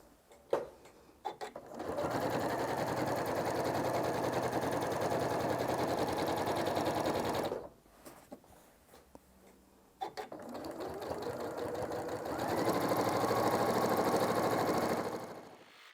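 A home sewing machine quilting layers of fabric runs in long steady whirring stretches, stopping for a few seconds with small handling clicks before starting again, near and alone with no talk.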